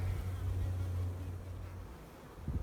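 Honeybees in a queenless hive hum in a low, steady drone close by for a couple of seconds, then thin out near the end.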